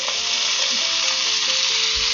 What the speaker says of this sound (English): I'm just going to add in the bacons